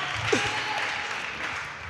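Audience applause on a Catalan talk show about castells, a short burst of clapping with a brief voice or whoop at its start.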